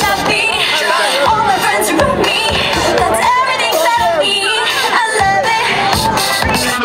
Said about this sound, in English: So give yourselves a round of applause for being so beautiful